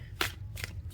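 A few quick card-shuffling riffles of a tarot deck, close and soft, in two or three brief bursts over a low steady hum.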